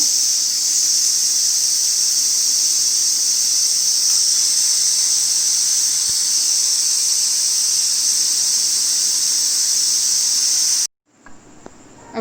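Pressure cooker hissing out steam after an hour of cooking mutton paya (goat trotters), a loud steady high-pitched jet that runs unbroken for about eleven seconds, then cuts off abruptly into quiet kitchen clatter.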